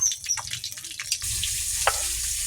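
Oil heating in a pan for a rupchanda fish curry with yogurt gives a few light clinks and stirring sounds, then a steady close hiss of sizzling that holds for the rest of the clip.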